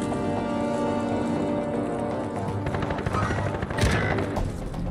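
Rapid bursts of automatic gunfire from a first-person shooter match, rattling steadily and loudly throughout with a sharper blast near the end.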